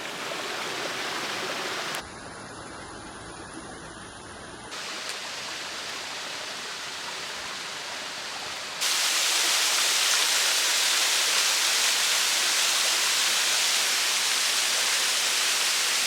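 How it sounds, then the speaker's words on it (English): Middle Black Clough waterfall in the Peak District roars with a steady, dense rush of falling water that sits close and loud, growing fuller and brighter partway through with no voices. "finally made it to Middle Black Clough waterfall"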